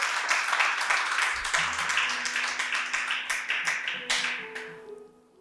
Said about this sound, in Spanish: si van a aplaudir, aplaudan fuerte porque es para el Señor